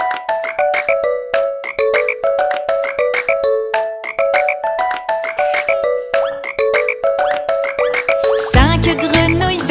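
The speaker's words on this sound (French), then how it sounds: "Cinq grenouilles vertes mouchetées sur une bûche tachetée" Cartoon frogs croak in a bouncy, repeated tonal pattern within a French children's nursery song, steady rhythmic croaks dominating throughout before a denser musical burst at the end.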